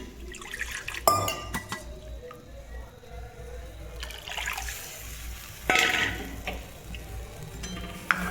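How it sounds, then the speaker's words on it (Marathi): Water poured and splashing into a pan of besan for pithla, with scattered clinks of metal and glass and a trickle between them. "थोडंसं पाणी ॲड करते मी अजून याच्यामध्ये"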